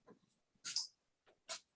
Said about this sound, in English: That's my dog. You can hear him on the side.